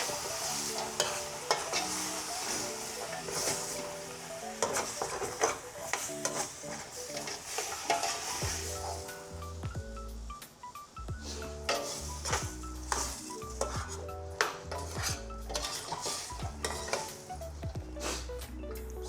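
Upo gourd sautés with chicken in a pan, a soft sizzle under repeated scraping and clinking of a spoon, close by, with a steady musical backing throughout.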